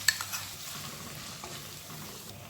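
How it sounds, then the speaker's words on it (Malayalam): Chilli soya chunks hiss and crackle in a hot pan as sauce goes in, a close continuous sizzle with a sharp burst at the start that eases into steady frying. "ഇതിലേക്ക് നമ്മൾ എടുത്ത് വെച്ചിരിക്കുന്ന സോസ് ഉണ്ടല്ലോ അതുകൊണ്ട് ഒഴിച്ചു കൊടുക്കാം"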